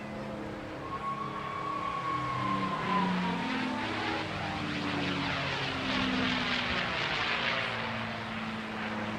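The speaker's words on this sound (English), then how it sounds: "This aircraft known as Warhorse, a nod to the Mustang's namesake" P-51 Mustang fighter named Warhorse flying at the Bournemouth Air Festival 2023: a sustained propeller engine drone with sweeping, phasing pitch as it passes, steady and fairly loud throughout, with no talking.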